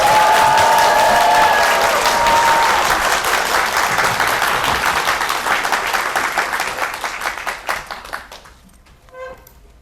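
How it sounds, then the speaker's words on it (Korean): An audience at a book talk gives a big round of applause, dense and loud at first, then thinning out into scattered claps before dying away. "일단 큰 박수 한 번만 더 부탁드립니다"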